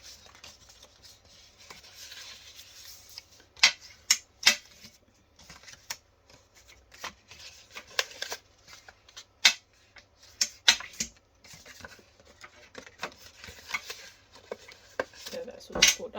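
Paper is scored for a tiny gift bag with a series of short, crisp scratching strokes and light taps, spaced irregularly and close by, with quiet stretches in between.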